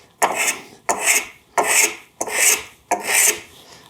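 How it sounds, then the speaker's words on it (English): A hand plane cuts a tapered chamfer along the edge of a wooden board in five close, evenly spaced rasping strokes, each a short dry swish of shaving with brief pauses between, with no voices. "take a short shaving, take a slightly longer, take a slightly longer, and work your way down the edge of the board"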